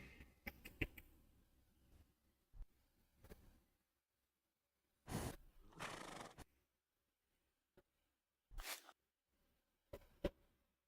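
Horses neigh in a Parasite Eve style battle game built in Unity, with short, faint whinnies and snorts in scattered bursts separated by near silence.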